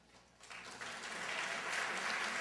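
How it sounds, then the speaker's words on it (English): Audience applause at a lecture, starting sparse and swelling into steady, sustained clapping from a seated crowd filling the hall. "I'll take that to be applause for the Pan American Center."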